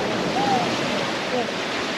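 Strong ocean waves crashing on the rocky coast near Hongseom island in Korea: a loud, continuous roar of surf mixed with gusty wind buffeting the microphone, with faint calls in the background.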